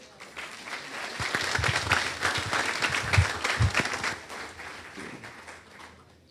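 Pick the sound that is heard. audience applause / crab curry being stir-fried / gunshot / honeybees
audience applause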